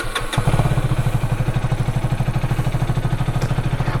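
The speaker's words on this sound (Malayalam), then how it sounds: "എന്തായാലും എക്സോസ്റ്റ് നോട്ട് ഒന്ന് കേട്ട് നോക്കാം." A Husqvarna Vitpilen 250 cafe racer idles through its underbelly exhaust, a loud, close, steady single-cylinder thump in even rapid pulses after a brief blip at the start, with no talking.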